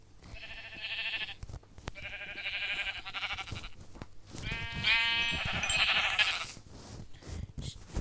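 Sheep bleating in the Minecraft video game, several drawn-out wavering bleats in a row, fairly loud and clear, with a brief gap between calls and low background noise.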